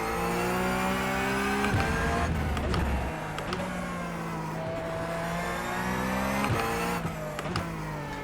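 Racing car engine in a sim racing game, a steady high whine with layered harmonics that drops and climbs as gears shift, heard alone and fairly loud without talk.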